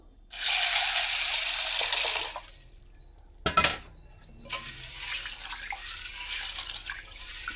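Chickpeas being washed in a bowl of water: a close, rattling swish of water and grains for a couple of seconds, a brief clatter, then softer, ongoing sloshing and trickling, with no talk.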